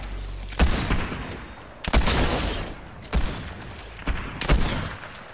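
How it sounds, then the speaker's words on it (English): Gunfire in the video game Fortnite: four loud, sharp shots spaced about a second apart, each with a booming low end and a ringing tail, with no talk over them. "Someone's shooting at me."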